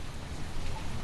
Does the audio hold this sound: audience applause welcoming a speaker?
no